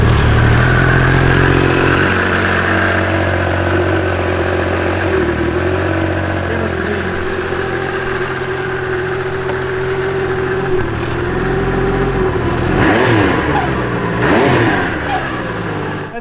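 Can-Am X3 side-by-side engine with a modified double-muffler exhaust, running loud and close with a rough idle and blips of revving throughout, without talk.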